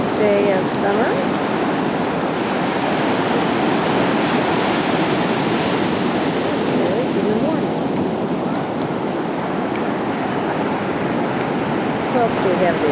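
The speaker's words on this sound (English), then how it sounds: "Lori, smushed by waves." Ocean waves breaking on a summer beach, a loud continuous wash of surf with wind buffeting the microphone, and faint voices at times.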